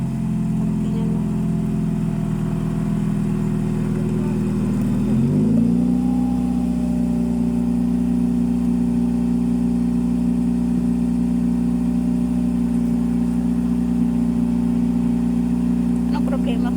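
A faulty car engine idles, then revs up once and holds at a higher, steady pitch, running continuously close by.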